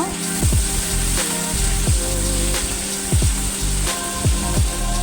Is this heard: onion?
yes